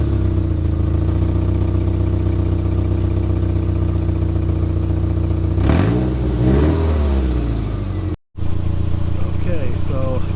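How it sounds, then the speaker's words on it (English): A worn Subaru Forester engine revs steadily at night, its exhaust leak giving a rough, raspy drone that holds throughout, with a sharp rise in revs near the middle and a brief dropout toward the end. "The exhaust leak just moved back further is all."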